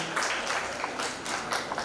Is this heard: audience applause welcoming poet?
yes